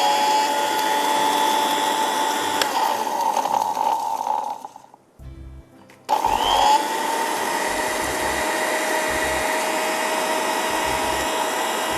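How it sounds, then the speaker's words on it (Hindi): A steady electric grinder whirs loudly while grinding achaar masala spices, stopping briefly midway before starting up again and running continuously. "अब हमने इसको पीसना है।"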